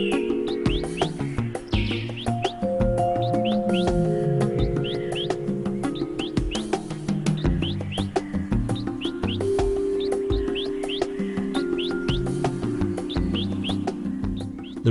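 Wild birds calling in the secondary rainforest of Tabin Wildlife Reserve, Sabah: many short chirps and tweets overlap steadily throughout, with sustained lower tones underneath and no talking.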